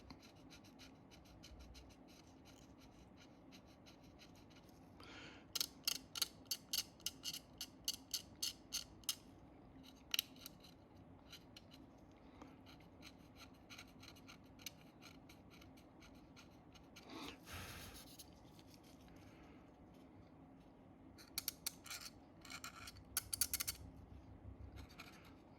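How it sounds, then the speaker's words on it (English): A sharp blade scrapes tampo print off an SDS Models LRC race container model, making faint, quick bursts of dry scratching strokes in irregular clusters over a quiet background. "with a sharp blade on its edge, just start scratching away at the tampo print"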